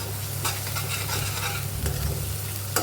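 Onion with crushed ginger and garlic frying for dum aloo, a steady crackling sizzle with a low hum beneath and a few sharp stirring clatters.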